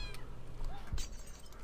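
A cat meows briefly in the video game Fowl Space, a single short call set against a steady hum of game background noise.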